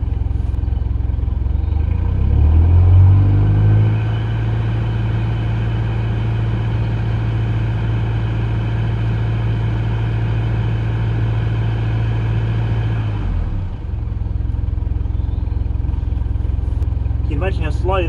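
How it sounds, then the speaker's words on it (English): Vehicle engine revving up once and then held at a steady elevated idle for several seconds before dropping back, a continuous close drone while wiring up a caravan DC-DC battery charger. "We'll give it a rev."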